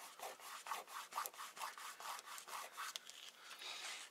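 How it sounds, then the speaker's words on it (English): Vinyl being burnished down by hand for a photo booth craft, heard as a steady scratchy rubbing in quick back-and-forth strokes. The rhythm is regular, the sound is close but fairly quiet, and no one speaks. "Burnish it down like you do with vinyl."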